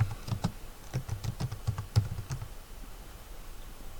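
Typing a short sentence in Word on a computer keyboard: a quick run of close, distinct key taps for about two and a half seconds, then quiet room tone, with no talking.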